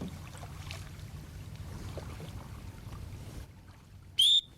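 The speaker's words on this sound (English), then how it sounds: "I'm gonna whistle at him like the dog" A single short, sharp whistle blast near the end, aimed at a duck during a duck hunt in Delacroix, rising over a quiet outdoor background of faint rustling and low rumble.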